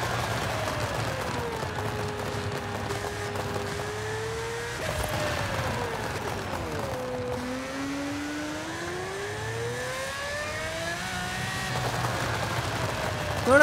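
A Pagani Huayra converted to a twin-turbo engine pulls hard in third gear on a highway. Its loud, continuous engine roar sweeps up and down in pitch, dips sharply around a gear change, then climbs again.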